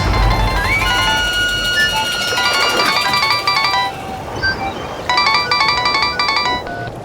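A phone ringtone plays loudly as a melodic electronic tune. It has repeating chime-like phrases and a brief gap partway through, then starts again, over a low background hum.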